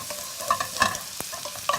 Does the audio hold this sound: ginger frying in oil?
yes